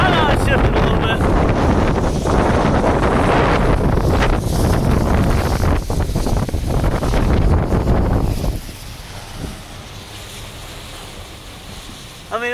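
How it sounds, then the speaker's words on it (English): Heavy wind near wind turbines buffets the microphone with a loud, roaring rush for most of the clip, then drops to a quieter hum near the end. "It's gonna be real windy"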